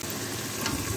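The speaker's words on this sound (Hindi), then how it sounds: "लहसुन अदरक भुन जाएगा" Garlic, ginger, cumin and spices frying in oil in a pan for an Indian cabbage and potato dish, a close, steady crackling sizzle with no voices.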